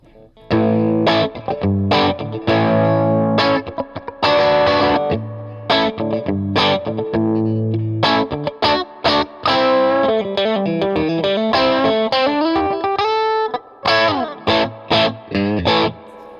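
A Fender American Professional Classic Stratocaster on its middle pickup, switch position 2, plays through distortion and chorus-type effects: sustained chords give way to quicker single-note runs, loud and close, with short pauses between phrases.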